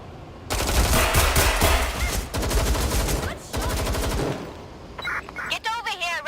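Video game gunfire in Watch Dogs Legion, loud bursts of rapid machine-gun shots and single cracks rattling close, then fading into scattered electronic tones and a voice near the end.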